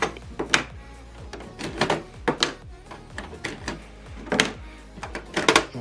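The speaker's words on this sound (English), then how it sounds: "It's going to move. The ink will move for you to replace it." The ink cartridge carriage of an Epson WF printer shuttles back and forth, giving repeated mechanical whirring sweeps and clunks close by with brief pauses between movements.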